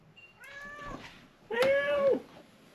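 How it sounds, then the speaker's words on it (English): A domestic cat meows twice close by, a softer rising call followed by a louder, longer, clear meow. "Cats are the best therapy animals."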